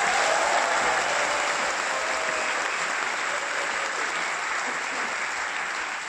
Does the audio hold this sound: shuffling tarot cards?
no